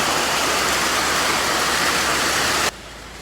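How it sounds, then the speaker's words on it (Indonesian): Heavy rain pours around a Harapan Jaya bus at a Palembang station, a loud, steady roaring hiss with a low rumble beneath that cuts off abruptly near the end, leaving only faint background. "Sekarang hujan ya. Hujannya ini hujan terang bukan gelap teman-teman."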